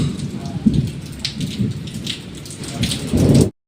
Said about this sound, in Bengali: এখানে নেমেছে বৃষ্টি, পুরো কালো করে, আর প্রচণ্ড পরিমাণে মেঘ ডাকছে